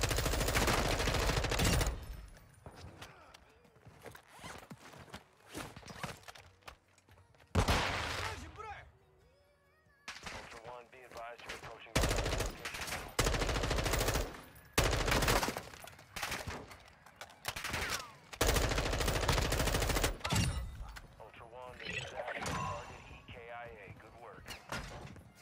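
Heavy bursts of automatic gunfire in a shooter video game, loud and repeated in long rattling volleys with short breaks between them, a voice talking over parts of the fighting.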